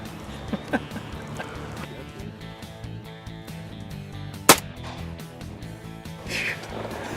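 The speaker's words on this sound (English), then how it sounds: "That's an out of range shot." A single shotgun blast fired while duck hunting near water, one sharp loud crack in the middle standing out against quiet outdoor background with faint engine-like hum.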